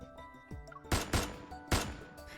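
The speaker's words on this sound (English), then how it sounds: "A gunshot explodes in the empty reception hall." Gunshots in the video game Love and Deepspace ring out in an empty reception hall, three sharp loud blasts in quick succession over a quiet musical background.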